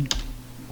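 A single keystroke on a computer keyboard, a brief crisp click close to the mic, followed by quiet room hum.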